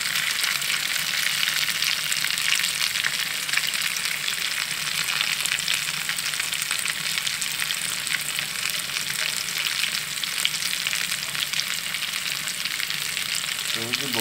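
Steady, dense sizzling of cassava frying in butter, a continuous crackle with no voices, holding at an even level throughout.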